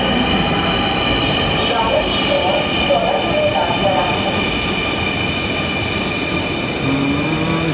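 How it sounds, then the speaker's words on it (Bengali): A Dhaka metro rail train on the Uttara Diabari line runs with a loud, continuous rumble layered with steady high whining tones and faint squeals, sustained throughout. "মেট্রো রেল ভ্রমণ করব।"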